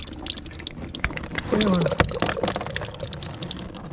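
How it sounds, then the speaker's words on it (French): Coolant drains from the radiator of a 2012 Kawasaki ER6N motorcycle, a steady trickling and splashing that swells midway, with a brief spoken remark over it. "On enlève le bouchon du radiateur, on dévisse le bouchon, ça coule un peu plus"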